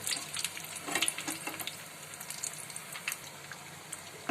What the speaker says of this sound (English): As same way, I will shallow fry others also